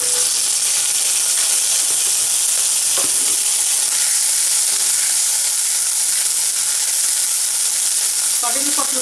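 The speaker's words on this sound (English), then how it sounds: "Sauteing for 2 seconds, the raw smell goes." Onions and ginger garlic paste sizzle steadily in a hot pan for a capsicum in cashew paste dish, a loud, continuous frying hiss with a few soft stirring scrapes near the end.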